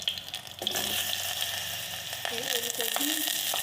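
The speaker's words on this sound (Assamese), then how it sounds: "চব্জিখিনি ভাজি ল'ব লাগিব।" Vegetables frying in hot oil seasoned with panch phoron and two green chillies, a continuous close sizzle with scraping stir strokes and a few brief clinks or pitched squeaks layered on top.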